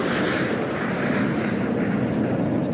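Surya Kiran aerobatic team jets fly in formation with a Globemaster transport aircraft at the Hindon Air Force Station Air Force Day show, making a loud, continuous broadband jet roar.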